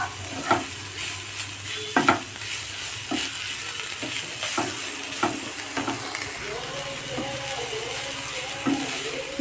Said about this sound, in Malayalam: ഇനി എല്ലാം കൂടിയിട്ട് മിക്സ് ചെയ്ത് കൊടുക്കാം